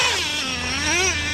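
Traxxas Revo 3.3 nitro 1/10 RC monster truck engine revving loud and close, a high buzzing whine that dips and climbs as the two-speed gearbox shifts, running steadily throughout.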